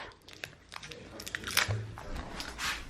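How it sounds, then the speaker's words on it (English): Close, crunchy chewing of Starburst candy, with irregular soft bites and wet crunches over a couple of seconds, quiet and intimate with faint background rustle. "Sorry, I'm chewing on my Starburst."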